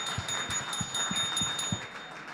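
A handheld bell rings at a live studio event, giving a rapid rhythmic series of bright metallic strikes with a sustained high tone over a few seconds, no talk.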